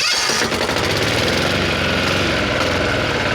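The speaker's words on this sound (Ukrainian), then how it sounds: "Послухайте, як приємно шепоче цей двигун." A Weima walk-behind tractor's small engine chugs at a steady idle close by, its even rhythmic putter continuing throughout.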